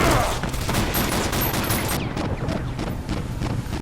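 Rapid gunfire crackles in dense overlapping bursts, loud and close, thinning slightly after a couple of seconds but continuing to the end.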